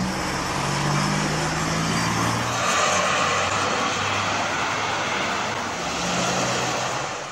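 Vintage cars from the last century roll through a roundabout, a steady continuous engine drone and tyre rumble that swells and eases as vehicles pass fairly close, with no talking.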